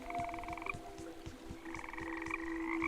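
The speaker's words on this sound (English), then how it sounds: "Frogs? Yeah, I knew it." Frogs croak in steady, repeated pulses in the video game Woven, layered over a sustained musical tone and a regular low rhythmic beat, with no talking.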